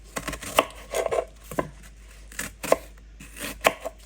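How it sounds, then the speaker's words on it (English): A kitchen knife chops onions into small cubes on a board, a close, irregular run of sharp dry taps in quick clusters with short pauses between them. "I'll chop it up in small cubes."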